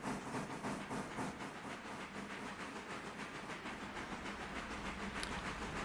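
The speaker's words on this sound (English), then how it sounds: "It's a passenger train passing the local shunting in action." A passenger train rolls past at a rail yard where local shunting is under way, giving a steady, faint rumble and hiss with soft rhythmic clatter and no voices.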